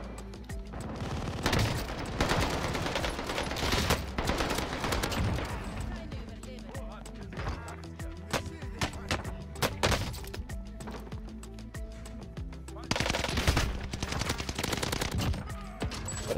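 NZ-41 rifle gunfire in the video game Warzone, heard as dense bursts of rapid shots and cracks over a continuous noisy game soundscape, loud and near, with no voices.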